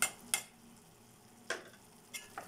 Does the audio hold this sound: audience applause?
no